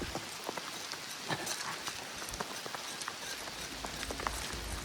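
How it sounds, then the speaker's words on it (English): Steady rain pours in the Moab desert, a dense hiss of drops with scattered close patters and taps continuing evenly throughout, no voices over it. "The raindrops are starting to fall"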